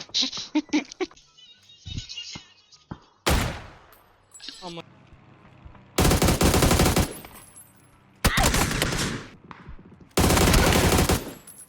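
Automatic gunfire in the battle royale game PUBG rips out in several loud sustained bursts with short gaps between them, after earlier scattered shots and voices talking.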